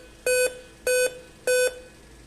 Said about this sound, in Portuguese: E ele continua dando 5 bips.